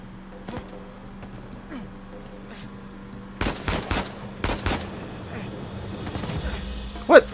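Gunfire from a powerful gun in the video game Uncharted 4, a cluster of sharp, loud shots in the middle and a final blast, over low game ambience with some talk.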